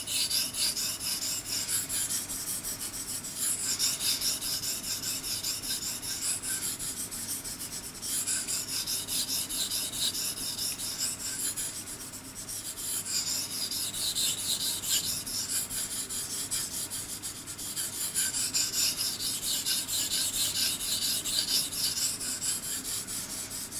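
A blade stroked back and forth across a wet Belgian blue coticule whetstone, a steady rasping scrape in long sweeping passes that swell and fade in rhythm, close and continuous with no talking.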